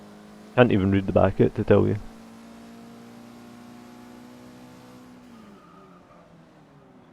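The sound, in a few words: Mitsubishi Evo 9 car launching and racing, from Forza video game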